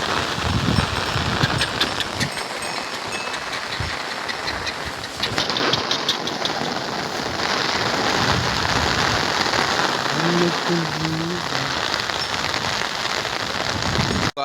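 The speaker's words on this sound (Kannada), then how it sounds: "ಏನ್ ಬಿಟ್ಟ ಮಳೆ ಹಿಂಗೆ ಹೊಂಟತ್ ನಮ್ಮ ಊರಾಗ" Heavy rain pours down steadily on a farming village in Karnataka, a loud, dense hiss that continues throughout with a brief low engine-like hum partway through.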